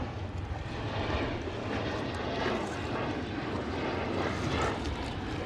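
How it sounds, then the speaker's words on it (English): A jet aircraft passes high overhead while someone paddles a boat near an abandoned hospital on North Brother Island, New York City, giving a steady, broad engine roar that persists evenly throughout. "Have a jet flying overhead."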